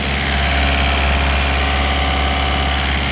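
Steady loud drone of a car engine idling with the front radiator cooling fan running, an overheating car whose antifreeze has not been changed, close by and unbroken throughout with no voices.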